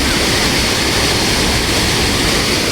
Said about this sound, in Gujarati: ફૂલ પાણી જઈ રહ્યું છે. આપ જોઈ શકો છો. દરવાજા ખોલી નાખવામાં આવ્યા છે